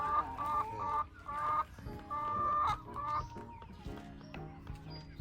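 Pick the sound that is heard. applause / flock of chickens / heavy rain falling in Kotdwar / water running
flock of chickens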